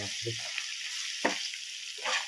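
Tomatoes frying and being stirred in a pan for egg curry, a broadband sizzle with a few brief stirring scrapes and louder bursts over about two seconds, no talking.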